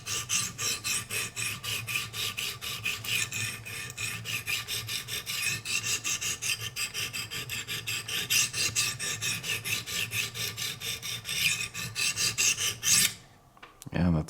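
A Benchmade Altitude knife with an S90V steel blade is sharpened on a Wicked Edge guided system, giving a continuous rhythmic rasping of stone strokes on hard steel, close and steady, then a short pause near the end.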